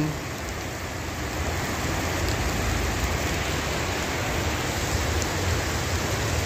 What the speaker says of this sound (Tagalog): Inaabot na kami ng ulan